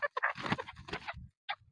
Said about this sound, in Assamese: মুৰ্গী খুব ধুনীয়া মুৰ্গী হয় ঘৰৰ মুৰ্গী হয়